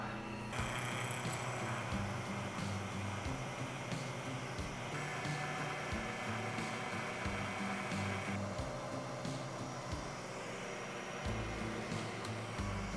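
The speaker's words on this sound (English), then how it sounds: "after I do the other one, then we have to mill this down" A manual milling machine with a half-inch end mill cuts a brake boss on a bicycle frame, giving a steady, close, loud whining drone with a shift in pitch partway through.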